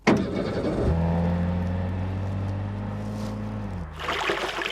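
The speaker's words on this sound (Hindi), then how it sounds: "चलो गाड़ी निकालो।" A car engine starts with a rough burst and then settles into a steady, fairly loud hum as the vehicle pulls away. The engine note holds steady for several seconds before a brief broadband rush near the end.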